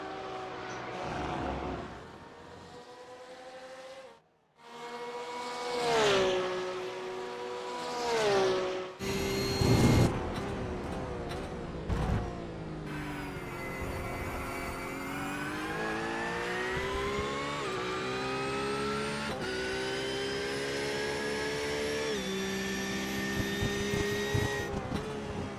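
A GT3 race car engine at Jerez circuit during a Dr Dabber GT3 Series round, heard onboard: loud and continuous, it revs up and shifts through the gears again and again, with one short lift mid-run.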